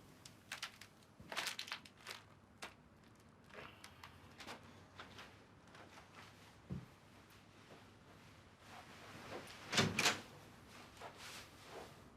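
A door is opened indoors at night, with scattered handle clicks and soft knocks, a low thump midway and a louder clatter near the end, all fairly quiet and close, with no speech.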